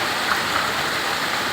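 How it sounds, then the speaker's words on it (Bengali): Heavy rain pours steadily in a dense, even hiss with no breaks, loud and close for a brief stretch. "আমরা দেখতে পাচ্ছি প্রচুর বৃষ্টি হচ্ছে।"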